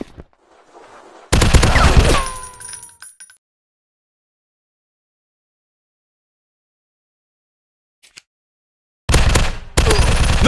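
Video game gunfire in Zombies Fire Strike, set in an industrial war zone: a loud rapid burst of automatic shots, a long silence, then two more sharp bursts near the end, all close and dry.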